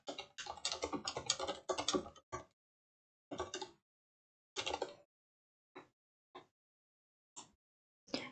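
Computer keyboard typing text into a chart title in PowerPoint: a rapid burst of close keystrokes, then several short separated clusters of taps and a few single key presses with silent gaps between them.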